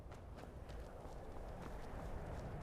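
A horse in a Minecraft-style modded video game gallops off, its hoofbeats a faint, quick clip-clop rhythm continuing over soft background noise without any talking.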